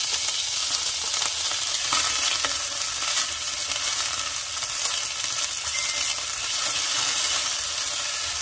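Grated onion fries in olive oil for a chicken tagine, a loud, steady, dense sizzle with occasional stirring, no voices.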